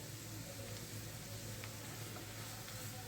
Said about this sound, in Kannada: ಎಲ್ಲನೂ ಚೆನ್ನಾಗಿ ಕಲರ್ ಚೇಂಜ್ ಆಗೋ ತನಕ ಫ್ರೈ ಮಾಡ್ಕೊಬೇಕು